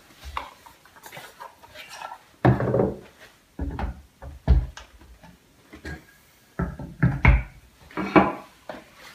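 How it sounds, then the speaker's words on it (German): An apple dropped into a Harrexco high-performance blender jar with water already in it, heard as a series of hard knocks, clunks and handling bumps of varying loudness close by. "legen den Apfel hier rein."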